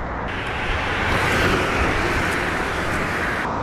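Cars pass by on a road in a continuous broad roar that swells near the middle as vehicles go past close by, with no talking.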